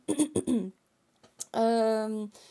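A short cough or throat-clear into a microphone between bits of speech, followed by a sustained voiced sound; close and fairly loud.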